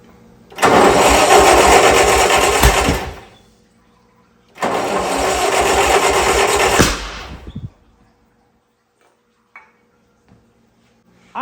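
An old Bobcat skid steer engine cranks and roars loudly in two rough bursts of a few seconds each, cutting out between them, then near silence with a few faint clicks.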